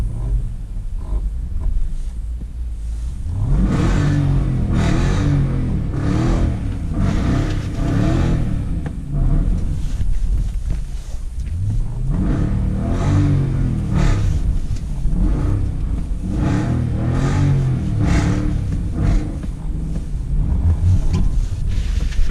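Rear-wheel-drive Dodge Durango RT engine revving hard in repeated surges while sliding in snow, loud and close with wind rumble.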